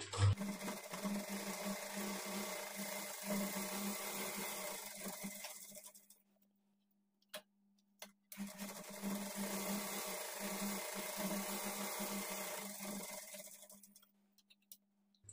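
A sewing machine stitching blouse fabric runs in a fast, steady motorized whir with rapid needle ticking. It stops for about two seconds with a couple of faint clicks, then resumes and fades out near the end.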